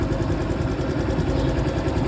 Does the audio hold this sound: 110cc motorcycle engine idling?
yes